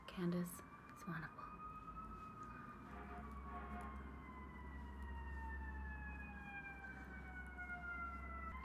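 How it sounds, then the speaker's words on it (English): Faint, distant emergency sirens wail with slowly falling tones, heard behind soft whispered talk close by. "Holy fucking sirens."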